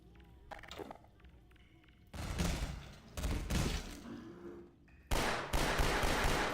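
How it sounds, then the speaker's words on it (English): Default pistol fire in Half-Life 2 while escaping City 17, heard as a few quiet clicks followed by bursts of rapid, loud shots with dense crackling reports. "Default Half-Life 2 pistol sounds like a BB gun."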